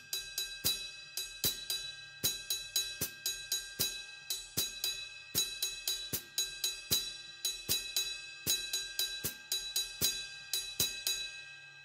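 An Abakuá rhythm on a drum set, with crisp, sharp strikes in a repeating syncopated pattern that includes triplet breaks, played close and fairly quietly with no talking.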